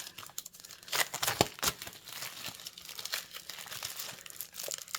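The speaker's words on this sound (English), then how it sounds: "it's taking me a moment to get the cellophane off" Crinkly cellophane wrapping is peeled and crumpled off an embossed card keeper box, close and quiet, in irregular crackling bursts with no talk.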